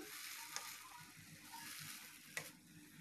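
Spinach is stirred in a pot of boiling water, producing a steady bubbling hiss close by with a couple of brief clinks from the utensil and no voices.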